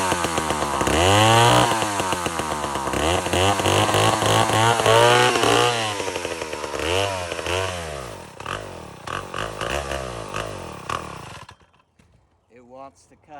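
An old chainsaw runs hard and bogs down as it cuts, its engine pitch sagging and recovering in rough surges before it cuts out near the end, with a person speaking over it.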